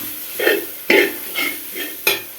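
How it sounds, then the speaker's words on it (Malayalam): Grated coconut is stirred in a pan with turmeric, chili powder, coriander powder and meat masala, giving about five distinct scraping strokes of a spoon against the pan over a soft sizzle. "തേങ്ങയും കൂടെ ചേർത്ത് നന്നായിട്ട് ഇളക്കുക"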